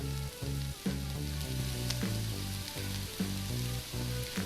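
Gooseberry thokku fries in a pan as a powder of cumin, mustard and fenugreek is mixed in. A faint, continuous sizzle sits over a low, regular pulsing hum.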